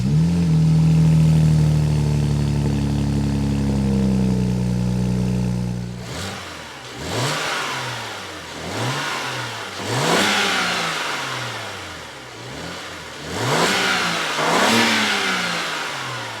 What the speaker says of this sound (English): I'm going to turn the car on, let it warm up for a bit. Then I'm going to give it a few revs